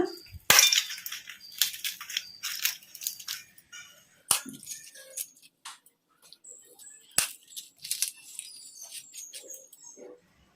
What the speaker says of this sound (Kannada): ಪೂರಿನ ಈ ಥರ ಸ್ಮ್ಯಾಶ್ ಮಾಡಿಕೊಂಡು ಹಾಕ್ಕೊಂಬಿಡೋಣ